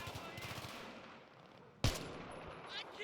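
A single loud, sharp crack of an SVD sniper rifle in Battlefield 3 stands out against quieter distant gunfire and battlefield noise, followed by a brief decaying echo.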